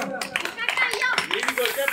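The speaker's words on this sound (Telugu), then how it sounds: "అందరం చప్పట్లు కొడదాం." Guests clap for a couple at their anniversary celebration, a brief burst of quick, close hand claps mixed with voices speaking over them.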